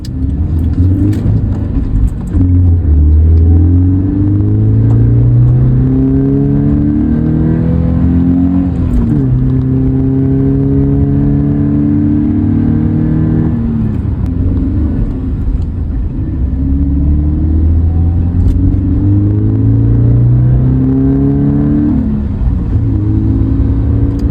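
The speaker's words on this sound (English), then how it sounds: "I enjoyed a calm and relaxing drive to the car wash." A Toyota GT86 sports car drives calmly at steady speed, its engine a loud, continuous low rumble with gentle rises and falls in pitch as it shifts through gears, heard from inside with no talking.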